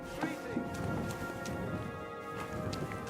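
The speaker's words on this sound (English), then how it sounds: "Even though it's raining outside." Steady rain patter in the video game Kingdom Come: Deliverance II fills the scene, a constant hiss with occasional brighter drips, continuous and moderately loud without a break.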